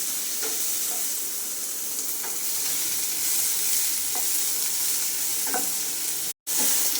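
Chopped onions fry in a little oil with a steady, close sizzle, broken by a few soft stirring scrapes and a brief cut near the end.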